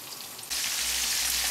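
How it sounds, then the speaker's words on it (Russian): Flour-dredged mackerel fries in hot oil, a steady close sizzle that jumps louder partway through and then holds as dense crackling hiss. "Вот рыбу я обваляла в муке, и она уже жарится в масле."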